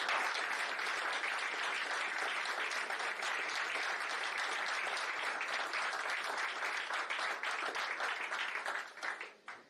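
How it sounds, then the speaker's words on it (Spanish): An audience at a forum on the Catholic faith gives a sustained round of applause in honour of an absent speaker, dense even clapping from many people that holds steady, then fades out near the end. "que le mandemos un fuerte aplauso desde aquí"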